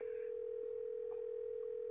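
Steady, unbroken telephone dial tone from a handset in the Nancy Drew video game The Final Scene, held at an even level throughout with no voices or other sounds over it.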